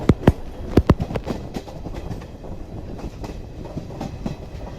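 Rhythmic clickety-clack of train wheels over rail joints, heard from the carriage doorway of a train bound for Goa, with sharp knocks early on and a steady rolling rumble after.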